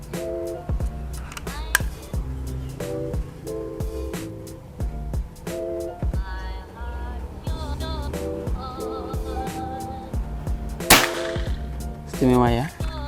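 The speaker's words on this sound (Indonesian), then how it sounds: "Tembakan keempat." Repeated sharp PCP air rifle shots crack out at irregular intervals over steady background tones, with one louder, brighter shot standing out late in the clip.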